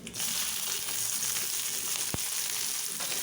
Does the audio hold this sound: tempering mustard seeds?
yes